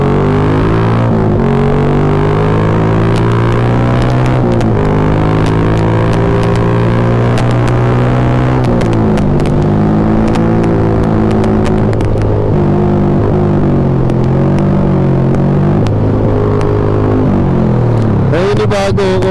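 A Yamaha Sniper 150 motorcycle engine hums steadily and loudly while riding, its pitch rising and falling through gear changes, with wind rush and occasional clicks over the whole stretch.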